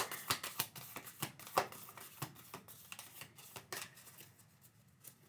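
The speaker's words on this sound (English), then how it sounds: "One more shuffle, Pisces." Tarot cards are shuffled in a series of quick, crisp riffles and soft flicks, close up and fairly quiet, slowing toward the end.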